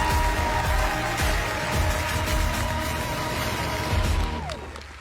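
A studio audience at a televised junior dance competition gives loud applause and cheering for the judges, dense clapping with music-like tones underneath before it fades.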